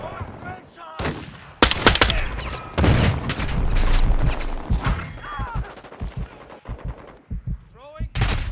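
Bursts of loud, close automatic gunfire in the multiplayer shooter Modern Warfare II beta, separated by short gaps, with a few single shots and booms.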